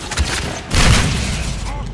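Gunshots fired at a sack in the video game Mass Effect 3 multiplayer, a burst of heavy booming shots, the loudest blast in the middle, with game noise around it.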